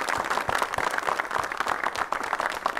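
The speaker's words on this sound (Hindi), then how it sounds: "दो जोरदार ताली के साथ।" A seated audience applauding at an Independence Day celebration, sustained mixed clapping from many hands at an even, lively level with no voices over it.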